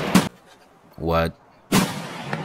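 Gunfire from M61 rounds in Escape from Tarkov: two sharp, loud reports separated by about a second and a half, with a short tonal burst between them.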